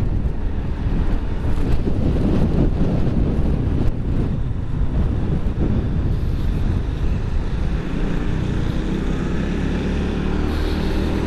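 Strong wind gusts roar steadily across the microphone on a cold mountain road near Malico, a loud, continuous broadband rush with surging buffets throughout.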